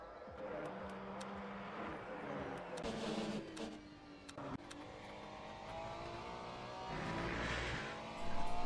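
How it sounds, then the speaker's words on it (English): Race cars in Le Mans Ultimate roar around the Portimão circuit, with engines revving, shifting pitch and rising as cars pass close, and a sharp surge near the end. "I can hear the cars now too"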